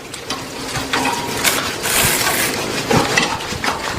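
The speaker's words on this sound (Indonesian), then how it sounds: "Ini adalah proses penggilingan sampah dari warga, mau dijadiin pupuk." A machine grinds household organic waste for compost with a steady mechanical whir, rattling and clinking close by, with brief louder scraping bursts throughout.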